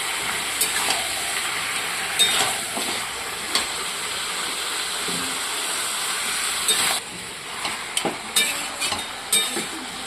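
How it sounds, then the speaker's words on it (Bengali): Duck meat and potatoes fry in a wok, a steady hissing sizzle broken by repeated sharp scraping clatters as the spatula stirs and tosses the pieces. "যেমন এখন মাংস ঠিক কষা হচ্ছে, যদি এখন অনেক দেরি আছে আর কি। এখানে আলু মেশানো হচ্ছে।"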